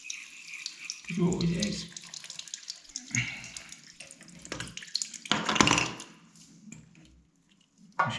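Water coming from a pipe during a bathroom first-fix plumbing job: irregular splashing and trickling with some clattering handling noise, close by and fairly quiet, with a brief spoken remark near the start.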